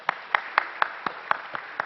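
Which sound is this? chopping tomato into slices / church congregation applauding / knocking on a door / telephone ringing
church congregation applauding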